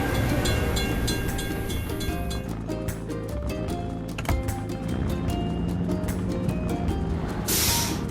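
A train rolls through a level crossing in a children's truck-building video game, a steady rumbling stream of rail noise with music-like tonal layers that runs throughout and swells with a bright hiss near the end.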